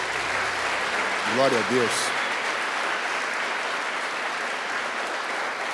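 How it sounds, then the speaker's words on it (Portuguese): A church congregation applauding during a live worship service, a steady wash of clapping that stays even throughout, with a brief spoken phrase from a voice over it near the start. "Vocês podem aplaudir ao Senhor?"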